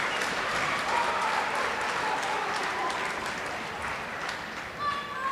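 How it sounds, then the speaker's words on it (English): Steady, dense applause from a crowd at the WABA National Finals amateur boxing bout fills the whole stretch, with scattered claps, cheers and voices in the hall and a brief whistle near the end. "have a listen to the way the crowd responds to this"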